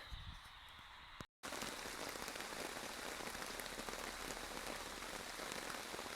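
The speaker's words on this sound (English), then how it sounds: "Can't even hear the radio for the rain. It's pissing it down." Heavy rain pours down in a dense, steady roar after a brief quieter moment and a short gap, with no voices.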